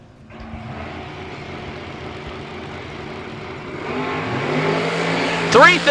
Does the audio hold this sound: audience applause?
no